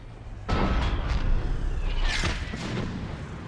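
Enemy gunfire in the Mass Effect 3 Thessia battle on Insanity difficulty: a sudden loud blast followed by a rumbling run of booms and sharp bursts that spreads out and fades, with no talking.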